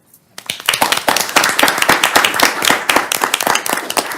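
People at a Board of Supervisors meeting clap for newly elected board members. The clapping is close, dense and lively, starting abruptly after a brief silence and continuing throughout.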